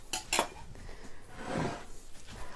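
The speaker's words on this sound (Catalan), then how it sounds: "Ho barregem tot bé, que es vagi incorporant totes les espècies" Spices and coriander being mixed with carrots for a Moroccan carrot ferment in a bowl: a couple of sharp utensil clinks, then a softer scraping stir, close and fairly quiet.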